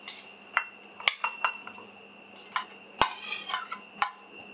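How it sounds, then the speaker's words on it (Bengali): Raw prawn pieces tipped into a bowl for marinating, for a Bengali coconut prawn curry: five or six sharp, close clinks and knocks against the bowl, spaced irregularly over a quiet background. "আর এই বোলের মধ্যে আমি চিংড়ি মাছের টুকরোগুলো দিয়ে দিচ্ছি।"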